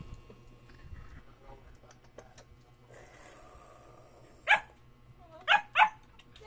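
Dogs at a family home bark three sharp times near the end, one bark and then a quick pair, fairly close, after a quiet stretch of faint background noise.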